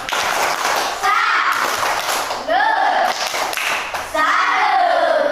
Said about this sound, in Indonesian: Yuk kita kasih tepuk salut dulu untuk sama-sama. Yuk tepuk salut.